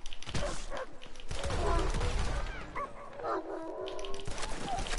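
A dog barks, yips and whimpers in the Western video game Red Dead Redemption 2, with a quick run of close, loud, agitated barks and whines over a noisy background.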